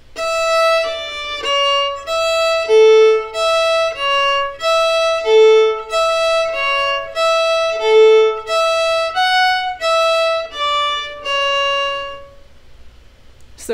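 A fiddle plays the opening phrase of the B section of the tune Devil's Dream, bowed notes with string crossings and repeated figures ending in a short descending scale, solo and close, then ringing off into quiet.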